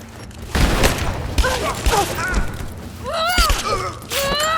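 In the video game Rise of the Tomb Raider, a grenade blast erupts as a sudden broadband boom, followed by scattered thuds and debris, while characters shout over the action.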